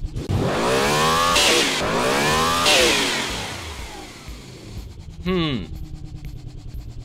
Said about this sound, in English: Got our engine on the test bench here. Give it a bit of a whirl.